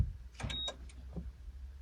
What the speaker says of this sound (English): So I should lock the car.